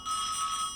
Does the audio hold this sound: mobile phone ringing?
yes